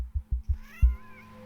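A cat meowing after being patted in the No Longer Home video game, a short cry that follows a few soft thumping pats, close and clear.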